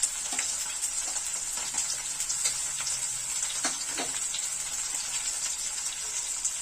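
Garlic and grated ginger frying in a pan for a Dhaba-style mixed vegetable dish, with a steady close sizzle and crackle and occasional sharper pops from stirring.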